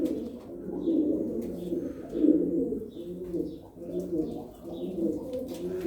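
Blue pied Turkish tumbler pigeons (taklacı) coo in a loft alongside their young, soft repeated throaty coos rising and falling at close range with a few faint chirps, and no speech.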